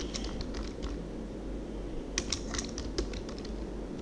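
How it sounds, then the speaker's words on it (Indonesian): Typing on a computer keyboard while filling in a form to create an account: scattered bursts of light key clicks over a steady low hum, with a denser cluster of keystrokes in the latter half. "Ini saya ketikkan dulu."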